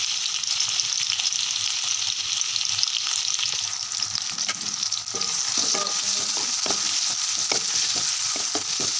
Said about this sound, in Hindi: इसमें मैं ऐड कर दूँगी हमारी प्याज। अच्छे से इसे मिक्स कर लूँगी।